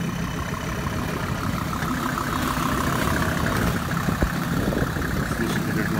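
An off-road vehicle engine idles quietly on snow, a steady low rumble holding even and close, with faint scattered clicks and no voices.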